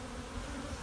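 Bees buzzing around a caged queen in an open hive, a dense steady hum close by with no pauses.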